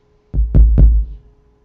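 Three deep, booming kick drum hits in quick succession, close and punchy with a short low decay, no voices.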